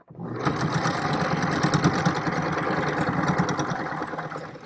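A sewing machine top stitches fabric with the stitch line set slightly in from the edge. It starts abruptly and runs as a loud, continuous whirring motor with a fast stitching rhythm for several seconds.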